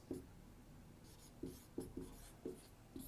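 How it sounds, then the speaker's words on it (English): Marker strokes squeak and scratch across a whiteboard in short bursts with uneven gaps, close and fairly quiet, with no talking. "I will write here just because I feel compelled to write something on that board"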